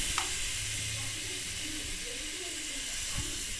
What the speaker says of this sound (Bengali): তেলটা গরম হয়ে গেছে, আমি সব রকম সবজি দিয়ে দিচ্ছি তেলের উপরে